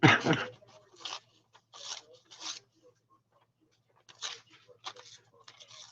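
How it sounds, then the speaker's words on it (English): Paper tears in several short ripping bursts during a craft session, each one a quick rasping rip separated by pauses, fairly close and clear above a low background hum. "Except the sound of tearing paper."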